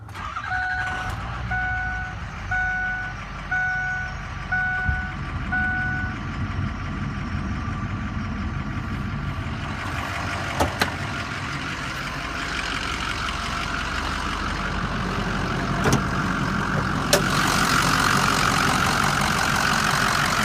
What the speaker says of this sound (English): I'm going to fire it up, let you listen to it run under the hood.